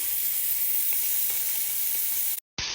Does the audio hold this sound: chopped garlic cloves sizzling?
yes